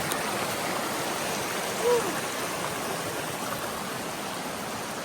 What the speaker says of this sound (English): Don't fall into the creek.